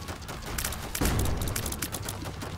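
Glass cannon weapon firing in The Binding of Isaac: Repentance, a dense crackling burst of rapid impacts with a heavier blast midway, loud and close.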